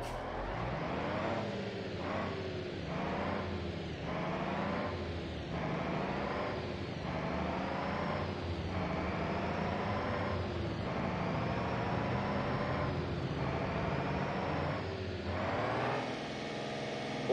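A Gravel T-65 truck rolls downhill in BeamNG.drive, its engine droning steadily and loud, with pitch rising and falling in regular surges as it runs on without pause.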